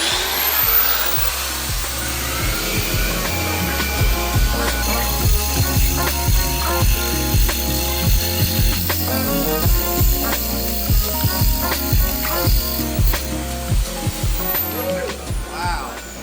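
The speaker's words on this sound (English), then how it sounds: "we're switching to a hole saw" A hole saw bores through material during the installation of a floating toilet, grinding and whirring steadily and loudly for the whole stretch with bursts of cutting texture, a voice talking over the tool.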